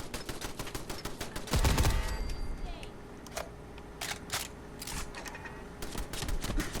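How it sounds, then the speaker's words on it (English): Gun turrets firing in Fallout 4, rapid rattling bursts of automatic gunfire with sharp repeated cracks, loud and close, mixed with game effects and a voice talking. "I forgot about turrets."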